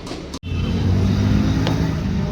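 Road traffic rumbles steadily past a roadside tea shop, a dense, continuous wash of engine and tyre noise that cuts out for an instant, then resumes at full strength with no voices over it.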